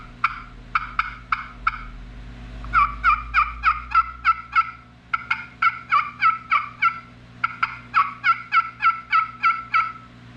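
A custom Choctaw turkey call made by Jerry Dunn runs through yelps and cuts: close, loud bursts of sharp, raspy notes come in quick clusters of four to eight, separated by short pauses, with no talking.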